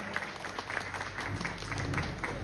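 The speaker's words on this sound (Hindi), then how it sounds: "तालियों से स्वागत करें" Audience applause welcoming a guest at an annual community celebration, steady clapping from a seated crowd filling the room, moderately loud, with faint background murmur and no clear speech.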